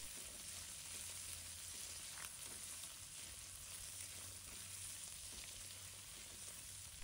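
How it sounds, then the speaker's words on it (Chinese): Peas and egg tofu stir-fried in a wok give a steady, even sizzle with soft scraping stirs, moderately quiet and close, with no talking. "继续翻炒均匀。"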